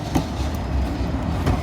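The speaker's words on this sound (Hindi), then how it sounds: "ये ट्राम हमारी तरफ से जा रही है।" A tram passes close by on a Moscow street, its steady rumble and wheel noise rolling past with a couple of rail clicks.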